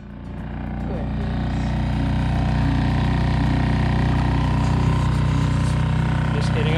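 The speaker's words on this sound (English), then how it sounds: "our diesel heater is running" A diesel heater runs aboard a sailboat in a steady, droning low hum that holds evenly throughout, with faint background noise layered on top.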